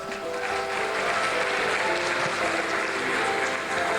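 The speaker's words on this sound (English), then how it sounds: "Round of applause to our nominees." Steady applause from an audience, a dense wash of clapping hands holding at an even level throughout with no voices.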